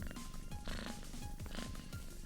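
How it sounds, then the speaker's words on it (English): A steady, close cat purr from a sound effect, looping in a continuous rumbling rhythm of repeated breaths with no voices over it. "That purr is not him. That's a sound effect."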